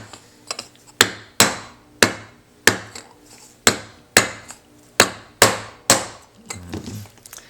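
A hammer strikes the base of a copper vessel to flatten its edges, about a dozen sharp, ringing metallic blows in an uneven rhythm, close and loud, with a few lighter taps between them.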